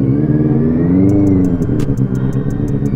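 A Kawasaki Z900 superbike idles with a loud, deep engine rumble that swells into revs, close up and alone, with a run of faint rhythmic ticks near the end.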